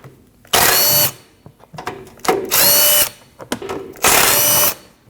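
A power tool whirs in three loud, separate bursts of about half a second to a second each, driving out 12 mm bolts on the front cover of a 2012-2021 Nissan NV2500 5.6L V8, with quiet gaps and small clanks between.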